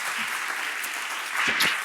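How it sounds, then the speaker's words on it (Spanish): A lecture audience in Bilbao applauds speaker Silvia Zimmermann, a steady, dense wash of clapping that holds evenly for the whole stretch and swells slightly near the end. "Un fuerte aplauso para Silvia Zimmerman"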